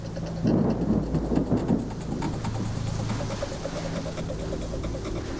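A rumble of thunder rolls over steady rain, heaviest in the first couple of seconds before settling into a constant wash of rainfall.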